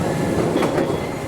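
A Paris Metro line 3bis train pulls away from Porte des Lilas, heard from inside as a loud, continuous rumble of wheels on rails with faint clicks of the track joints.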